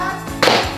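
A Nerf blaster dart strikes a Minecraft creeper toy in one sharp, close smack, heard over a steady tonal background hum.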